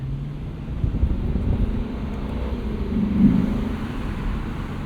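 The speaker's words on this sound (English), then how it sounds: "Kind of a rough downshift into first, with this just being a torque converter automatic." A 2024 Lexus IS 500 sport sedan with a 472 hp V8 and a torque converter automatic makes a rough downshift into first. Inside the cabin, a low, steady engine rumble mixes with wind noise and swells briefly near the end.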